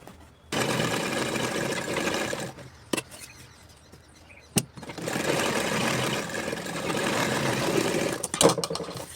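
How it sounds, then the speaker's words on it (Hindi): Sewing machine stitching fabric for a suit or kurti neck, running in long steady whirring bursts separated by brief pauses and a few sharp clicks, close and fairly loud. "अब एक कपड़ा पर सूट को उल्टा रखना है और सिलाई लगा देना है।"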